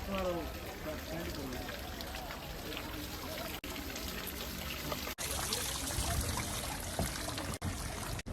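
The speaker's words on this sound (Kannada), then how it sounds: "ಸೊ ಇಲ್ಲಿ ನೀರು ಬರ್ತಾ ಇದೆ ನೋಡಿ" Water flows and trickles continuously close by, a bright splashing stream on the Dawki River in Meghalaya, with voices talking briefly at the start.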